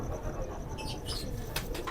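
Pigeons of the Ferozpuri, Imamdin and Kamagar breeds cooing softly in a loft, with brief bursts of wing flapping late in the clip over a steady low murmur.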